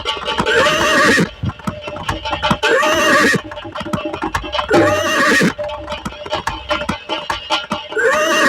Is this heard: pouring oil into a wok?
no